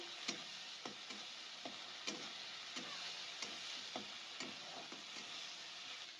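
A spatula stirs spices and red chili powder in a sizzling frying pan for Bengali egg chop, with soft rhythmic scraping taps about every half second over a faint, steady fry.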